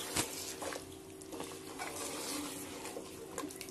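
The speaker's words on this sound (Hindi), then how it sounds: "अच्छे से भून लेते हैं गोश्त को मसाले में" Goat meat being fried and stirred in masala for tinde gosht, with a steady sizzle and the scrape and clink of a spoon against the pan, close and continuous.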